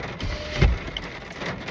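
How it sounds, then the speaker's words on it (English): Rain beginning to fall outdoors, a steady soft hiss of drops with one brief duller thud, fairly close and with no talking. "Oh my gosh, it's starting to rain."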